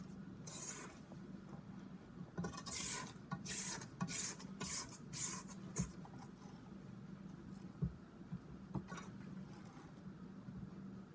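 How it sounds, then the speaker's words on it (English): A spatula scrapes around the sides of a mixing bowl of chocolate chip cookie dough, a run of close, dry rasping strokes in the middle of the clip against a quiet kitchen background. "take a spatula and scrape down the sides of the bowl"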